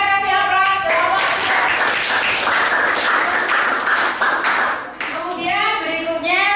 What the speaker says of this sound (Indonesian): Kita kasih aplaus kelompok.